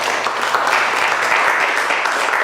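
A classroom of students applauding together, a steady dense wash of clapping that stays loud and even from start to finish.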